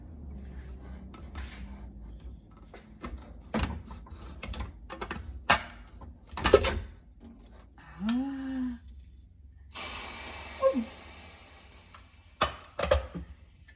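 Spoon stirring cooked vegetable curry in a steel pressure cooker, giving scattered clinks and scrapes at close range, with someone talking between them.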